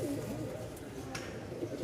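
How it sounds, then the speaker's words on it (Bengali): Soft coos of Giribaz pigeons and a brief flutter of wings, faint and close, with a voice murmuring in the background. "কবুতরগুলো দেখেন কি পরিমাণ ছটফট করতেছে"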